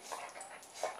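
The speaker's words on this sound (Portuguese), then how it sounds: "Tem que latir bem na hora do vídeo." A pet dog gives two short, sharp barks or yelps about a second apart, fairly close, in a quiet home setting, with no talking.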